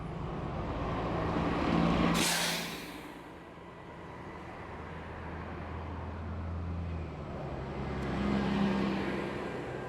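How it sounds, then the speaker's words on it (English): Disney buses at Caribbean Beach Resort rumble past outdoors, a steady engine drone swelling and fading with a brief hiss around the middle, no talk. "Of course, some of the Disney buses."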